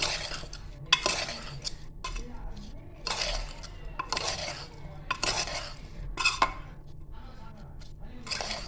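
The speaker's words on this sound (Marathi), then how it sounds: "आता आपण इथे हा एकत्र करून घेऊया।" A spoon stirs salt into rice in a metal pan on a stove, with several distinct scraping sweeps and clinks against the pan, close up and at moderate volume.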